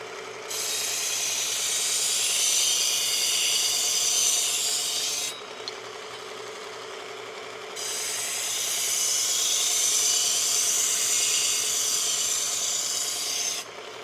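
A Work Sharp Ken Onion Mk.2 belt sharpener grinds a knife edge in two long, steady passes. The abrasive rasp is loud and continuous, with a short pause between passes, and no voices are heard.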